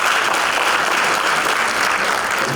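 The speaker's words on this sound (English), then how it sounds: "Let's give all our community leaders a round of applause" Loud, sustained applause from a large audience at a Women's History Month assembly honoring community leaders, a dense unbroken wash of clapping close and full throughout.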